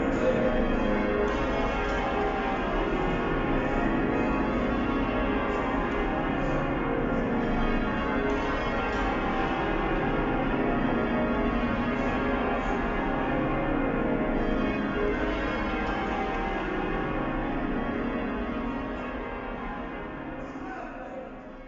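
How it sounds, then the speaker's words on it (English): The ring of Liverpool Cathedral, the heaviest set of bells in the world, peals in a dense, continuous wash of deep overlapping strikes and humming tones that fills the space, loud throughout before easing slightly at the end. "Liverpool Cathedral. These are the heaviest bells in the world."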